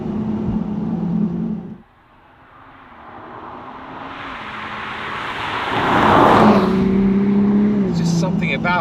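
A BMW Z4 with the B58 straight-six engine and exhaust, heard from inside the open-top car as the engine hum drops, then builds to a loud rising roar under acceleration before settling back to a steady drone.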